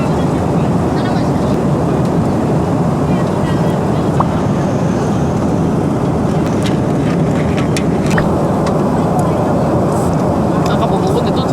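Steady broadband engine roar inside a wide-body airliner cabin during an evening flight, a constant low rumble filling the whole stretch with faint cabin sounds above it.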